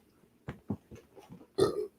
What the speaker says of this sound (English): I just burped on live